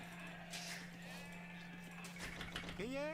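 A video game sheep gives one short bleat at the very end, close and clear, following a stretch of quiet background noise with a voice present.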